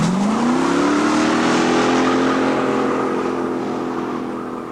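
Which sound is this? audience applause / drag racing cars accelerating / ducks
drag racing cars accelerating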